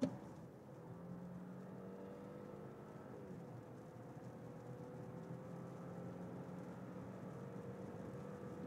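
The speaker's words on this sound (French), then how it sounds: "Une nouvelle accélération." Audi A6 sedan, a 2026 model, accelerating from about 100 to 170 km/h on a rainy motorway, heard from inside as a steady, moderately loud engine drone with rising tones under constant road and tire noise.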